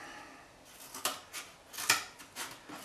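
Cutting a piece of car interior trim material, a few sharp snipping and crunching strokes spaced irregularly, close and fairly quiet.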